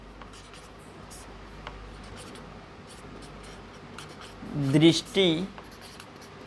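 A pen scratches across paper in close, continuous strokes as notes are written, and someone speaks briefly near the end.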